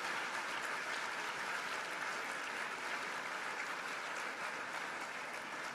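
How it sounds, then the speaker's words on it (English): Luncheon guests at a Ten Point Coalition event give sustained applause, a steady, evenly textured wash of many hands clapping that holds for several seconds with no speech on top. "Let's give them a round of applause."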